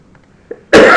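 A single loud, harsh cough bursts out near the end after near silence, preceded by a faint small sound.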